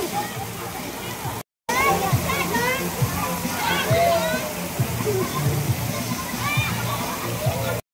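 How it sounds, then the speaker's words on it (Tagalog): Water splashes and sloshes continuously in a kiddie pool with many slides, once an Olympic pool. The sound stays steady and fairly close, and children's voices are heard throughout. "Nagwiwisik-wisik pa yung tubig, oh."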